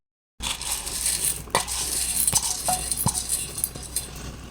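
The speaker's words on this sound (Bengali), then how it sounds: "দু রকমের ডাল ভালো করে জল দিয়ে ধুয়ে নেবো" Two kinds of lentils are rinsed in water in a metal pot, giving a run of gritty rattles and sharp clinks from the grains and vessel, close and moderately loud.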